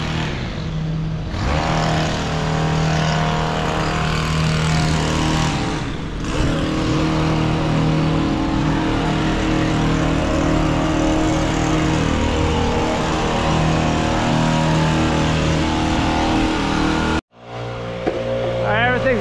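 A gas hedge trimmer running on cedar hedges in Windsor, Quebec, its motor buzzing steadily and close for most of the stretch with slight load changes, then cutting out abruptly near the end.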